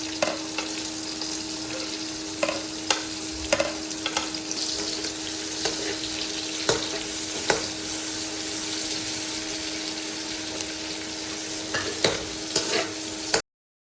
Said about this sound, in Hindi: उसके बाद हम डालेंगे इसमें प्याज और फिर इसको थोड़ा सा हल्का ब्राउन करेंगे